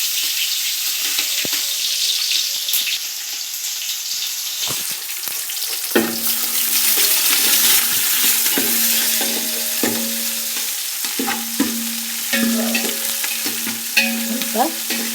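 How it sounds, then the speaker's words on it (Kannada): Onions and green chillies fry for a country chicken sukka, a constant sizzle under repeated close scraping and stirring of a spatula against the pan, with occasional knocks and no voices. "ಆಮೇಲೆ ಈರುಳ್ಳಿ ಹಾಕ್ತಾಯಿದ್ದೀನಿ, ಹಸಿಮೆಣಸು ಹಾಕ್ತಾಯಿದ್ದೀನಿ."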